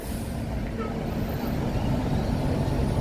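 Steady roar of Chicago city street traffic with cars, trucks and buses, a dense continuous rumble with a faint hiss like an air brake, heard close and constant.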